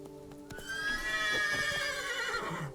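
Roach the horse in the video game The Witcher 3 lets out a clear, rising and falling whinny, with a few hoof clops around it, near and moderately loud.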